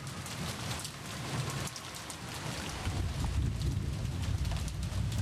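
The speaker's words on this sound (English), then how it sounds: "as the rain poured down on him" Heavy rain pours down steadily in Umineko: When They Cry, a dense hissing wash with a low rumbling undertone that swells slightly toward the end, alone without voices.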